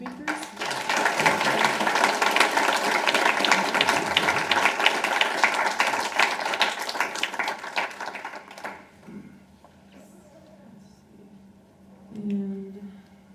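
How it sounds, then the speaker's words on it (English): An audience at a talk gives two speakers sustained applause for about nine seconds; it fades into a quiet room with faint voices and a brief murmur near the end. "can we please get a big round of applause for our two speakers?"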